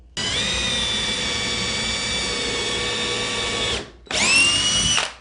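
A power drill boring a pilot hole for a TV wall mount whines steadily at high speed for several seconds, pauses briefly, then revs up again, loud and close with no talking.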